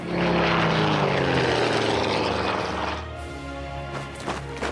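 Loud, steady drone of WW2-era propeller aircraft engines in a strategy game, Order of Battle WW2, holding close and full before easing slightly and thinning out toward the end.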